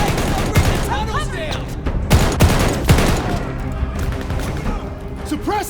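Gunfire in the video game Call of Duty: Vanguard: dense, continuous bursts of automatic fire with sharp individual shots crack through the whole scene, mixed with game voices and battle noise.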